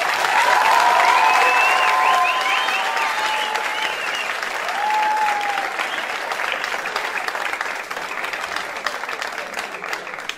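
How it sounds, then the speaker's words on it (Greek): Dense, steady audience applause at a rebetiko concert, loud and sustained, slowly thinning toward the end, with faint voices mixed into the crowd. "Παρακαλώ το χειροκρότημά σας για τα παιδιά μας."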